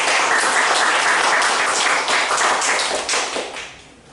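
An audience at a university peace-and-unification forum in a lecture hall claps loudly and steadily for several seconds before the applause thins and fades toward the end.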